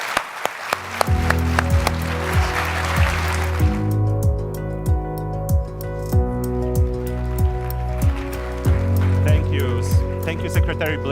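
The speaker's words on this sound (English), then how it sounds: "will everyone please join me in warm applause?" Audience at a NATO public forum breaks into warm applause, loud dense clapping that swells at first and then thins into scattered claps, while a voice speaks over it.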